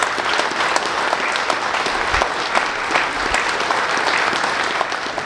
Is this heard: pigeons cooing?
no